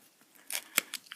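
Scissors snipping through cardboard, a few crisp separate cuts in quick succession, close up against a quiet background.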